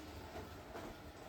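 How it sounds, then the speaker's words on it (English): An LGB model train of the Rhaetian Railway runs on a small indoor layout, a faint steady rolling rumble with soft rail clatter and no voices. "we'll just run a couple of trains"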